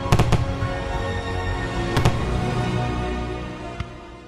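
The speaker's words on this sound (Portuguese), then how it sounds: "Os fogos enchem as noites de festas do fim de ano com brilho e emoção." Fireworks burst during New Year celebrations in Brazil, with sharp loud bangs near the start, again around the middle and once near the end, over a continuous crackling, rumbling wash of distant explosions.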